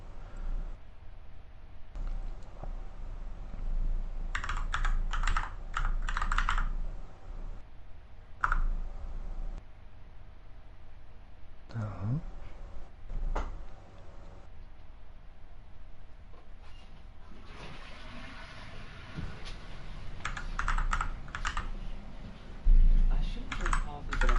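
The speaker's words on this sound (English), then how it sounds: "Yes, I'm clacking the keyboard" Clacking computer-keyboard typing comes in bursts over about twenty-four seconds, with mouse clicks and quiet pauses between runs, close and moderately quiet, while playing LittleBigPlanet 3.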